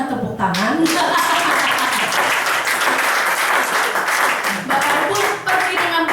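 Audience applause at an Indonesian Prudential presentation: dense, steady clapping from a large crowd fills the whole stretch at full strength, with some voices mixed in.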